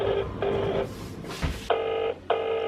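A telephone rings unanswered in a steady repeating pattern, with loud electronic ring bursts separated by brief gaps and no voices.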